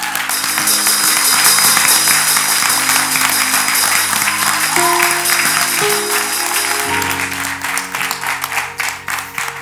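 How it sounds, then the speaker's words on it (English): Church congregation clapping hands during a live service, a loud continuous roar of applause with music playing beneath it throughout and the clapping thinning toward the end. "Somebody clap hands for Jesus."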